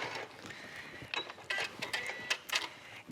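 A sewing machine stitching and backstitching quilt binding at a corner, giving quiet, close mechanical whirring with short bursts of rapid stitching and brief pauses.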